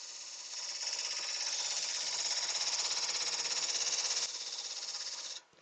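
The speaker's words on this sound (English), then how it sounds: "put a mortise in the bottom here." A power tool whines loudly and steadily while cutting a mortise into wood, a continuous buzzing drone that holds for about five seconds before cutting off abruptly.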